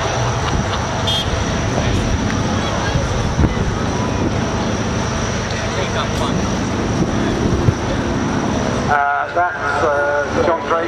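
A North American T-6G Texan, a radial-engined trainer of about 550 horsepower, flies a display at Shoreham. Its steady propeller and engine drone carries on under a commentator's voice, and the noise drops away near the end.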